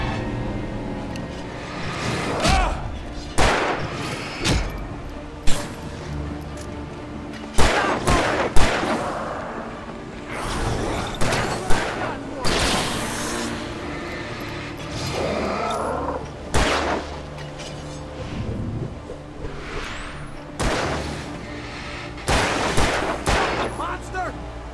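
Gunfire in Alan Wake Remastered rings out in sharp, loud single shots and short bursts, spread irregularly through a tense fight, with game voices and groans between the blasts.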